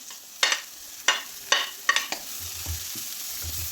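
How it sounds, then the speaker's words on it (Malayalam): Palak spinach and chana dal being stirred in a hot pan: four or five sharp sizzling scrapes of a spatula at a steady pace, then a softer, lower rumble of frying, close and alone with no talk. "എല്ലാം കൂടി ഇട്ട് നല്ലതുപോലെ ഒന്ന് ഇളക്കി കൊടുക്കുക"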